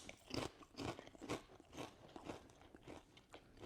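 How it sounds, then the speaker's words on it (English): Hand-cut salt and vinegar potato crisps crunch between the teeth: a series of crisp, brittle bites and chews in a steady rhythm, close and fairly quiet, with no talk. "First impression, got a really good crunch on them."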